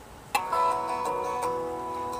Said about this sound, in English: So this is my ringtone.